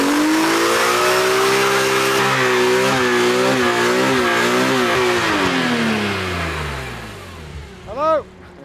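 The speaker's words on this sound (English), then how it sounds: "it can do a minute burnout" BMW E46 M3 holding a loud, sustained high-revving burnout on a lawn, engine note wavering up and down for several seconds before dropping away, with a brief sharp squeal near the end.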